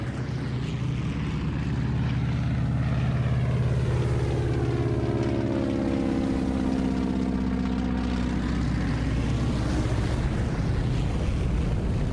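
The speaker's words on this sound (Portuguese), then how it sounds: "Eles recolhem água do mar sem nunca aterrissar." A Canadair water bomber aircraft skims the sea to scoop seawater, its loud propeller roar blending with rushing water spray in a continuous, close, churning wash of sound.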